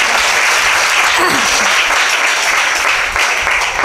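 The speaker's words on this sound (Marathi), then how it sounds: "वाजवा आमच्या महिला मंडळांसाठी जोरदार टाळ्या एकदा." Loud, dense applause from a kirtan audience in a temple, cheering on the women's group, sustained clapping from a crowd throughout the short stretch.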